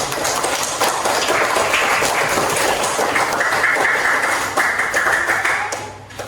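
A classroom of students claps hands together in a loud, continuous burst of rapid overlapping claps, close and sustained, tapering off at the very end.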